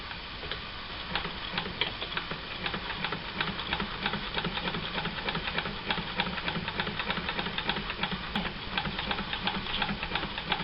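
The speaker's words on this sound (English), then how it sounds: "I'm going to sew." A vintage sewing machine stitching fabric with an edge foot attached, running steadily with a quick even mechanical ticking and whirring hum, close up and without speech.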